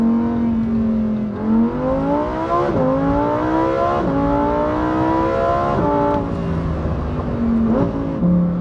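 A Lamborghini Huracan STO's V10 engine revs hard while driving, its loud pitch climbing through several gears with sharp drops at each shift, sustained and close from inside the car with no talking.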